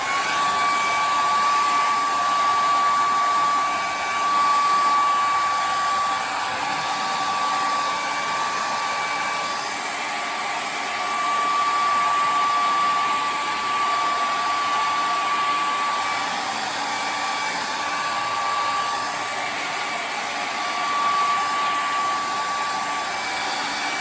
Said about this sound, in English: use a handy dandy blow dryer